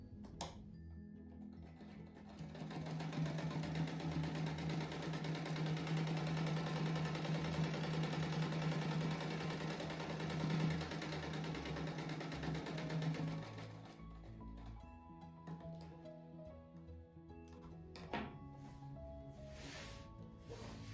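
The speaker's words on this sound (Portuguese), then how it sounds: "Agora eu vou fazer essa costura no meio aqui" An electric sewing machine stitching a seam across a handmade rug, a steady close whirring hum running for about eleven seconds before stopping, followed by quieter rustling and handling of fabric.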